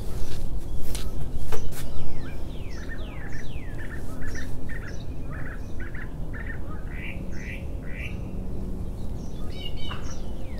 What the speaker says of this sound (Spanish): Si escuchan ese pajarito, lo estoy viendo, ahí está en el árbol.